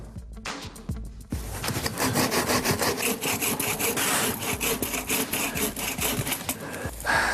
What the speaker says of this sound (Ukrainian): У нас є пилка. Зараз будемо пилити,